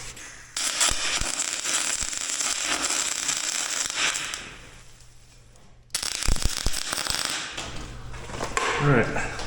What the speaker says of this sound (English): The only thing I can think of is welding a nut to it.